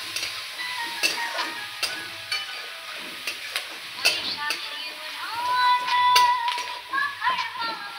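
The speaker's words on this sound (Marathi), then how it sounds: "कांदा थोड्या वेळ भाजून घेऊया" Onion fries in a pan after turmeric goes in, giving a low sizzle under clinks and scrapes of a spatula against the metal, with a brief whistling tone near the end.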